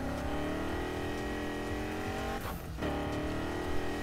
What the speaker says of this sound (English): Listen to this car.